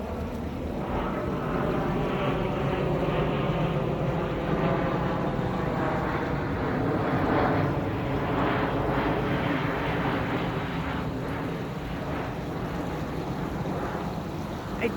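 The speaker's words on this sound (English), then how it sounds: "I'm going to pause because we have a plane going over." A plane passes overhead above a summer backyard, a steady broad rumble that holds loud and even throughout with no voices.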